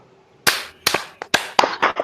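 An audience in a seminar session claps in a rhythmic group pattern: sharp, loud, clustered bursts of clapping in a quick beat, with silence in between and no talk.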